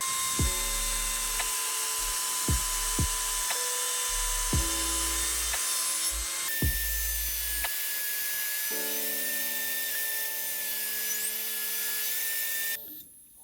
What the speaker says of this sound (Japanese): 同じ作業を繰り返すことで溝を掘っていきます。